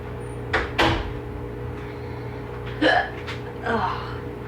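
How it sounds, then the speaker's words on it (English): Someone hiccups several times in a home kitchen during holiday cooking, short sharp bursts at fairly even intervals, close to the microphone over steady low background hum. "hiccups."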